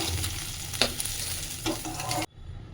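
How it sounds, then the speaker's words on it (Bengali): Tangra fish frying in hot oil in a pan gives a steady close sizzle, with a few brief stirring clatters before the sound cuts off near the end. "এবারে আমার ট্যাংরা মাছটা ভাজা হয়ে গেল"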